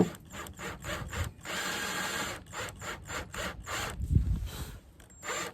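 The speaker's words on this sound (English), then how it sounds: "So let's just make some holes." A power drill bores holes into the back of a wooden tabletop, making rapid chattering, ratchet-like pulses in short bursts with brief pauses, heard up close with no talking.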